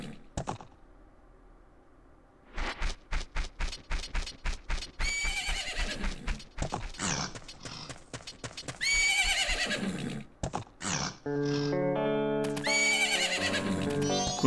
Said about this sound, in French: Donc c'est bel et bien Epona, notre cheval, qui est prisonnière derrière ces barrières de fer